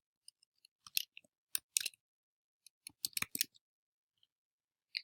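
A password being entered on a computer keyboard, heard as crisp, close key clicks in short irregular bursts separated by brief silences.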